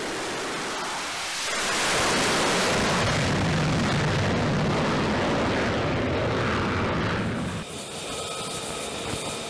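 An F-35C carrier-based stealth fighter powered by a single F135 turbofan roars past. The loud, broadband jet rumble builds and holds for several seconds, then eases into a steadier, slightly softer whine.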